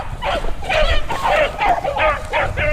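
Several beagles trailing a rabbit on a January hunt in Ohio give out a run of high, yelping barks and bays, some six or seven calls in quick succession, fairly close over faint outdoor background.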